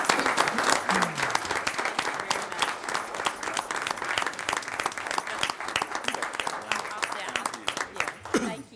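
Audience applause for Lisa's work at a Franklin city planning commission meeting, a steady roomful of clapping hands with a few brief vocal tones, continuing throughout at even loudness.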